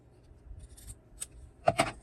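Scissors cutting paper tabs, a few soft snips near the end of a quiet stretch with faint handling rustle, close by and no one talking.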